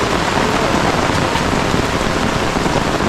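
Heavy rain pours steadily for a few seconds, a loud, unbroken hiss of drops drumming on surfaces nearby, with no one speaking.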